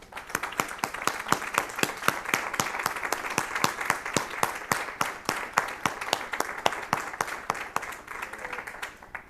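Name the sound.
church congregation applause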